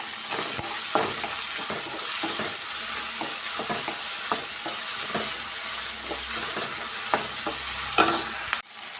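Shavige vermicelli frying in a pan while being stirred, a constant close sizzle broken by repeated scraping and clinking strokes of the spoon, ending with a brief thud, with no talking.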